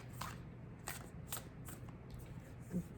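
Tarot cards are shuffled and drawn close to the microphone, making a quiet run of soft riffling flicks in several short bursts, faint and recorded indoors.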